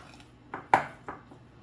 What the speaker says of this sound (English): Just stir it all in.